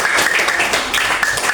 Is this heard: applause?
yes